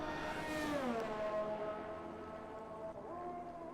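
A race car on an outlap in a racing game, warming up ultra soft tyres, whines past with a rising then falling engine pitch, moderately loud and fading, with no voices.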